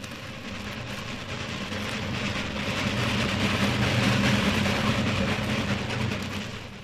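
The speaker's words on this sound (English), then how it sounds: "He hears a train roaring through the night." Old-time radio drama sound effect of a train roaring through the night, a rumbling rattle of cars that swells to a loud peak and then begins to fade, with no voices.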